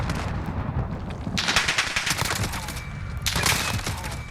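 A VKS sniper rifle fires on full auto in Call of Duty Modern Warfare, two rapid bursts of loud, close shots over a rumbling background.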